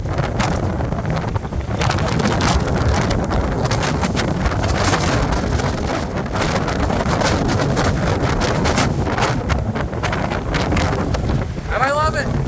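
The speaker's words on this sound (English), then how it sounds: "you get this wind." A strong windstorm in Montreal roars continuously and heavily, with loud buffeting gusts hitting the microphone close up and no letup throughout.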